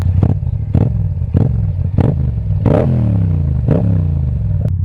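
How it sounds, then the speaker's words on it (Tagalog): Motorcycle engine and exhaust heard close up, with a steady idle broken by several sharp revving bursts whose pitch rises and falls, alone with no talk. "Engine check. Engine check. Sound check. Exhaust check."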